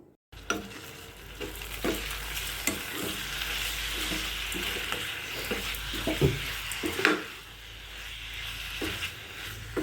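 Curry leaves, chili powder and rock salt stirred in a pan for a prawn dish, with a continuous hissing fry, repeated sharp spoon knocks and scrapes against the metal, heard close with no talking.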